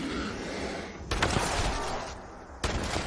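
An explosive pump action shotgun firing in Fallout 76, two loud blasts with a gap between them, each leaving a short explosive rumble over a busy game background.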